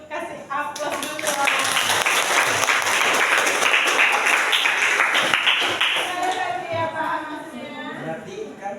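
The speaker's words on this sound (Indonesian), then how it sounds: "Kasih aplaus dulu" A classroom full of students clapping together, loud and steady for several seconds before tapering off into speech.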